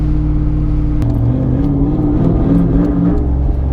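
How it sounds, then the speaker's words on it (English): Turbocharged Ford Coyote V8 in a Mustang, fitted with an 80mm turbo, revving on a dyno with a loud, continuous engine roar and a sudden shift in pitch about a second in. "when that turbo hit, the RPMs went woo!"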